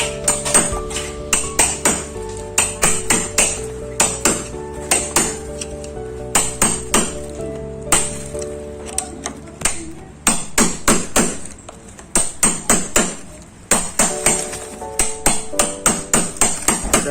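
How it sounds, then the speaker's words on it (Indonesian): A hammer striking a chisel to chip a deeper hole in a wall for a round flush-mount socket box, loud sharp metallic blows in rapid rhythmic bursts with short pauses, close and alone. "Kita perlu bobok dalam lagi sedikit lagi."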